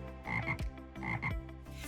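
Frogs croak in a pair of loud, rhythmic, raspy bursts, each phrase ending in a deep pulsing croak, close and clear with no other sounds.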